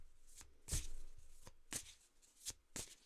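Tarot-style cards are shuffled in a few quick, separate riffles and slaps, soft and close in a quiet room, with short pauses between bursts.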